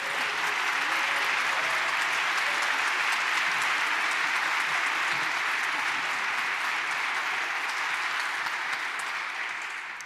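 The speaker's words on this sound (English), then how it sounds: "we all heard it loud and clear from your applause" An audience at an LGBTQ forum with Chicago mayoral candidates applauds, a broad, sustained wash of many hands clapping at once, steady and fairly distant, easing off slightly toward the end.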